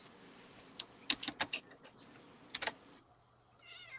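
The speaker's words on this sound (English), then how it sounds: "I just heard a cat meow." A cat meows in a room, a few short faint cries breaking through over quiet background noise and nearby conversation, with clicks and small handling sounds around it.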